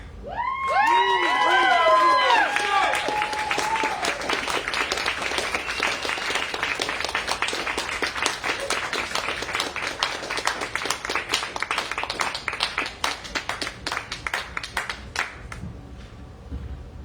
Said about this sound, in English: let's make some noise for Elizabeth tonight.